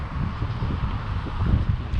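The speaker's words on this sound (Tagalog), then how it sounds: "mahangin dahil maraming kahoy" Wind blows steadily through trees outdoors at Farnborough Gate, UK, giving a low, rushing buffet with soft rustling and no voices.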